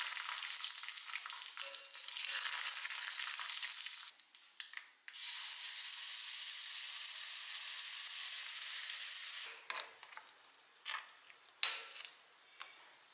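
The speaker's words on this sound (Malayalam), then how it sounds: "ഇനി നമുക്കിതാ വെളിച്ചെണ്ണയിൽ കടുക്, പിന്നെ നമുക്ക് വറ്റൽമുളക്, കറിവേപ്പില, ഇത് നല്ലപോലെ എന്നിട്ട് താളിക്കാം." Mustard seeds, dried chillies and curry leaves sizzle in hot coconut oil, a steady broadband frying hiss that briefly drops out and returns, with scattered crackles and pops near the end; no voices.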